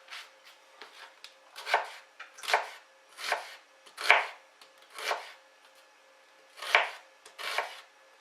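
Knife chopping peeled onions on a board for a simplified French bouillabaisse-style fisherman's stew, a run of distinct, fairly close cuts in loose irregular bursts with short pauses, heard alone.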